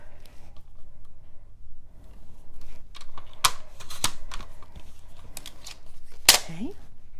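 Scissors cut paper for a Christmas mini album, with a few sharp close snips and rustles amid quiet handling while a voice talks softly at times.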